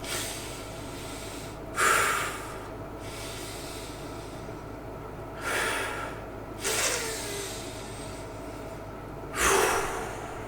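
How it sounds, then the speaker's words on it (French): Three slow, deep breaths during a quiet meditation, evenly spaced a few seconds apart, each a soft, close airy rush over a faint low background hum. "Prendre 3 grandes respirations."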